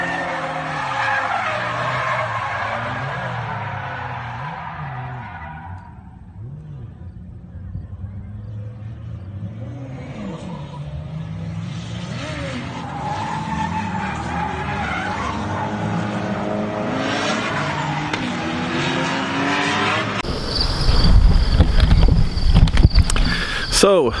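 A BMW E46 race car fitted with a 1JZ engine laps a track, its engine revving up and down through gears with repeated tire squeal, close and loud, ending in a harsher roar.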